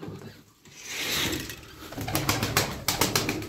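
A smoky female pigeon coos softly among a loft of pigeons, with faint wing rustles and patter near the end; quiet and close, no talking.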